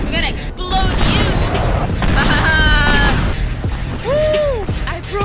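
Explosions and crashing debris in the video game Teardown, heavy booming impacts and rumbling destruction mixed with tonal game effects, loud and continuous, with a voice talking over it.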